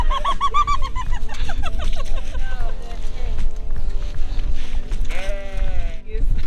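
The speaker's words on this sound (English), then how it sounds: "These sheep are hungry." Several hungry sheep bleat loudly and repeatedly in Ireland, overlapping calls crowding together up close, with people talking excitedly over the flock.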